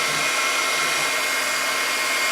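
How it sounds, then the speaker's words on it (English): A heat gun blows hot air onto a stamped image during a craft project, giving a steady, close, loud airy whoosh with a constant motor whine and no breaks. "I'm going to take my heat gun."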